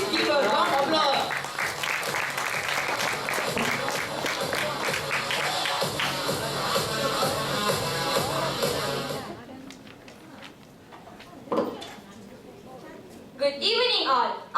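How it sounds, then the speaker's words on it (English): An audience at a school English program in a hotel claps and cheers for a student speaker, dense applause that fills the room before fading out, with a voice then starting to speak. "Please give a round of applause."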